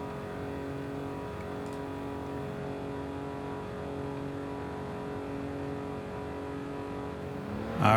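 A 1995 BMW M5 driving in Forza Horizon 5 at high speed, its engine holding a steady, droning high-rpm tone with whine and tire noise, loud and continuous throughout.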